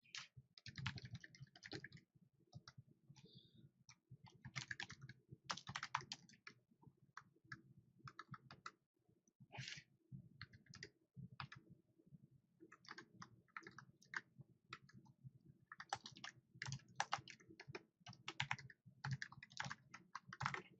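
Credit card details are typed on a computer keyboard in quick, uneven bursts of soft clicking keystrokes with short pauses, close and fairly quiet, with no talk.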